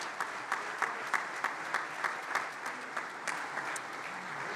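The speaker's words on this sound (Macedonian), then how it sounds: "Може еден аплауз за сите членови на одборот на директори" An audience claps for a company's board of directors at a summit's opening remarks, a steady burst of applause with individual claps standing out, moderately loud and without voices.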